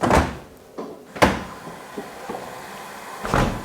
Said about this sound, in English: because of that door in the middle, it does kind of clonk around just a little bit more than the other American fridge freezers we've seen.